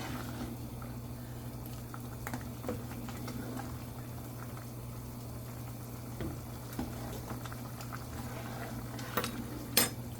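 Noodles cook in a pot of soup with oregano, a low, steady simmering bubble running quietly throughout, with a few faint utensil clinks now and then.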